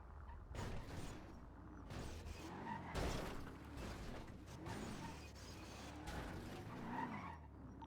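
A car skids in the GTA V NoPixel roleplay game, with tyre screeches and mechanical scraping in repeated bursts over several seconds, fairly close, with no talking.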